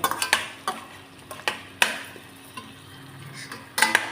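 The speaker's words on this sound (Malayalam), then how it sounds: "നല്ലപോലെ വഴറ്റുക" Vegetables sautéed in a pan for a vegetable kurma, with a spoon stirring and scraping against the metal in several sharp clinks over a faint background sizzle.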